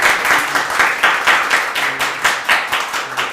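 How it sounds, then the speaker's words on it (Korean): Audience applause at a student peace and unification debate contest award ceremony, a steady, fairly loud patter of many hands clapping in rhythmic swells without pause. "박수 부탁드립니다."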